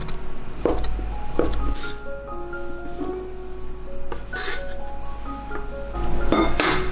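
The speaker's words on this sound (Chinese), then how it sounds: "然后午餐肉给它切成粒" A knife cuts luncheon meat into small cubes on a board, making quick irregular chopping knocks and clinks in bursts with short pauses between them, close and fairly loud.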